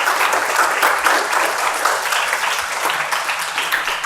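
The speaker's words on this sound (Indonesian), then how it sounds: "Sekali lagi tepuk tangan Bang Ihsan" Sustained applause from a seated audience at an Islamic youth talk event, dense steady clapping throughout, loud and close with no break.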